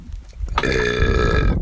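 A man lets out a long, loud, croaking burp that starts abruptly and rumbles on for about a second, close to the mic.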